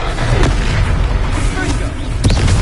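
Confringo blasting spell explosions in the video game Hogwarts Legacy, a dense run of booming blasts and bursts with sharp hits near the start and late on, under a voice calling out spells.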